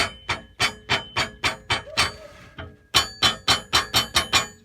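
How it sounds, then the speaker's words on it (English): Small rubber mallet tapping repeatedly on a truck's underside near the sway bar, where a broken end link rattles; a quick, evenly spaced series of sharp knocks with metallic ringing, briefly pausing for a lighter rattle before resuming, close and clear. "Got a little rubber mallet. I'm going to start tapping on some stuff to see what it is that's making the rattling noise."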